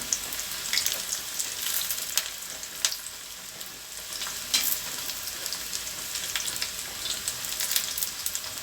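Bitter gourd pakoda fries in hot oil with a steady crackling sizzle, broken by sharp bursts that sound like stirring or pieces being moved about in the pan, close by with no talking.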